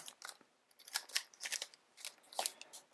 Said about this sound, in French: je vais prendre les ciseaux là parce que c'est du booster de compète